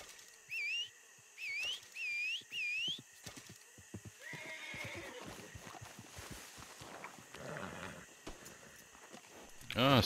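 A horse in Red Dead Redemption 2 whinnies, with hooves clip-clopping at an irregular pace and rising to louder steps near the end; several short whistle calls come first, all fairly quiet.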